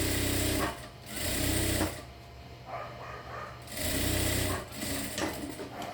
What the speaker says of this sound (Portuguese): Vou costurar as duas peças aqui, até o final.